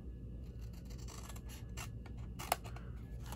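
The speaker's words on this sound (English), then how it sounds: "I'm gonna grab my snips" Snips cutting paper along a score line for a mini Easter basket, a quick series of crisp snipping cuts close to the microphone, with a sharper click near the end and no talking.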